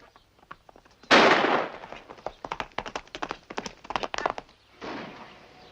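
In a 1956 western, a loud rifle shot cracks out, followed by a rapid rattling volley of many sharp shots and a final burst.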